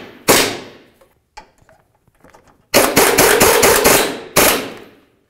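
Impact wrench or power tool bottoming out the lower control arm bolts on a 2011-2016 Hyundai Elantra, heard as a loud sharp burst, a few faint clicks, then a rapid rattling run of hammering blows and a final burst, with no talk.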